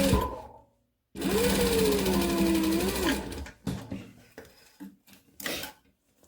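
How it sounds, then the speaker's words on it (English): Sewing machine edge stitching around the curve of a center-seam fabric face mask, a loud steady motor whir for about two seconds followed by short bursts and handling sounds. "So I'm going to edge stitch, guiding around the curve really carefully."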